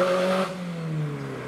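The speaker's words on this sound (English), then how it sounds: "Oh, there's an old Celica leaving the show." An old Toyota Celica pulls away from a classic car meet, its engine note droning and slowly falling in pitch as it recedes, moderately loud with no talk.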